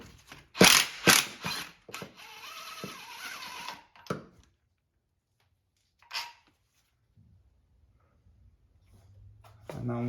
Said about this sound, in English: let's remove the last bolts